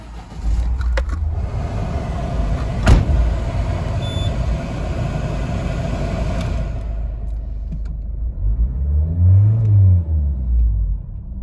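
2014 Citroen Berlingo 1.6 HDi silver van with its diesel engine running, a steady low rumble nearby with a sharp click partway through, then the engine cuts off and rattles briefly.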